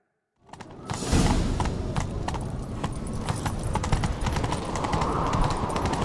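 Rapid hoofbeats of a horse galloping steadily in The Witcher 3 video game, close and loud, with a rumbling bed of noise and occasional clinks throughout.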